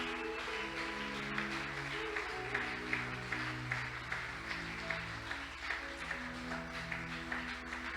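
A church congregation applauds with sustained clapping over a held organ or keyboard chord, with no one speaking.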